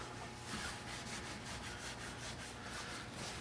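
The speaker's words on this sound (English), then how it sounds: "with a clean side of microfiber, we're going to go ahead and finally wipe that off" A microfiber cloth wipes pine pitch residue off a vehicle's painted surface, giving a steady, close, soft rubbing swish in repeated strokes with no talking.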